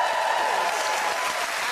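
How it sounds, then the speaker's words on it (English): A studio audience at a TV chat show applauds and claps loudly and continuously, a thick, even wash of hands with a faint crowd murmur. "so you are applauding and clapping anyway"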